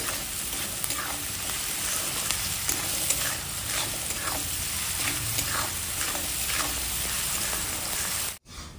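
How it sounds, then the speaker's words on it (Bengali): Onions with a pinch of salt fry in a pan for prawn pulao, giving a loud, steady close sizzle with scraping stirs throughout, then a brief dropout near the end. "পেঁয়াজটা আমার ভাজা হয়ে গেছে এর মধ্যে এবার মশলাগুলো দেব"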